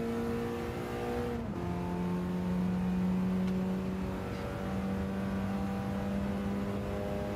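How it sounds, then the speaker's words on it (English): A race car engine in Gran Turismo 7 drones steadily, dropping pitch once as it shifts gear, then carries on with a low rumbling burble of exhaust pops. "I love the pop and burble on this car"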